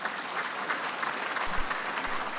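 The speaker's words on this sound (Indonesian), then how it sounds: "boleh beri tepuk tangan." A forum audience claps for a speaker's remarks, a dense and even round of applause from many hands, moderately loud and continuous, with no speech over it.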